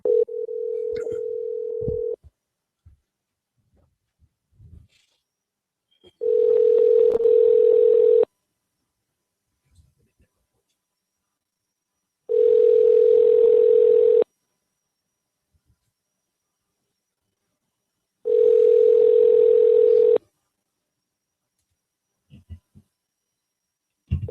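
Telephone dial tone heard while a prank call is being placed, a steady humming tone in three to four separate bursts of about two seconds each with silent gaps between, plus a few faint clicks.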